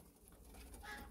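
A pigeon in a loft of fancy breeding pigeons gives a soft, faint coo, a brief low murmuring call over quiet background noise.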